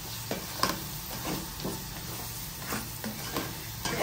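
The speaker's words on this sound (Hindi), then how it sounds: "अब यहाँ पे जो है प्याज पक रहे हैं," Sliced onions frying in oil in a pan, a soft steady sizzle with scattered stirring scrapes and taps, close but fairly quiet.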